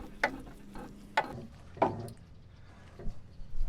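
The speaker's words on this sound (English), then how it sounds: "this hole in your jack handle goes over the end, and then you crank" A car jack handle cranked during a roadside tire change gives a few sharp metallic clicks spaced about a second apart, close and fairly quiet, with faint shuffling between them.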